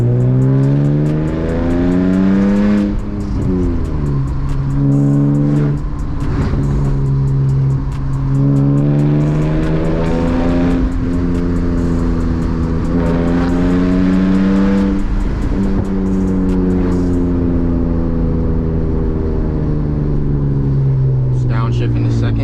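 Manual BMW E36 driven hard through hills: loud, close engine revs rising and falling in repeated climbs through the gears, with sharp rev changes at each shift and downshift, and a voice talking over it.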